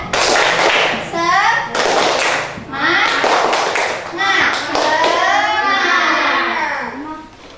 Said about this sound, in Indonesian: Ayo, tepuk semangat dulu. Tepuk semangat.